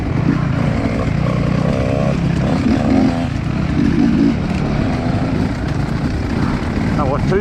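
Enduro dirt bikes, including a YZ85, a WR 450F and a group of two-strokes, ride past on a trail day, giving a steady, fairly loud engine drone that rises and falls as they pass, with people talking over it.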